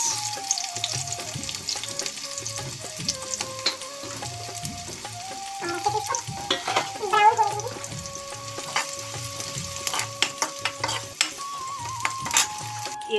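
Spices for kadhi tempering crackle and sizzle in hot oil, a continuous busy frying sound with scattered pops and occasional stirring, fairly close.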